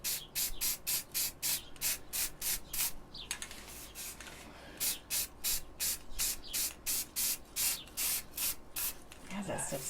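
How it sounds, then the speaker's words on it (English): Repeated short hissing bursts of an aerosol spray can, about a dozen quick sprays in rhythmic groups with a brief pause midway, close and fairly loud. "So I'm just going to spray this thing"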